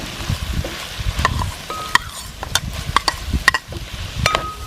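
Vegetables with green chillies, soon joined by brinjal, sautéing in a pan on the way to a Kerala beef roast, a steady soft sizzle broken by sharp clinks of a spoon stirring against the pan, no talk.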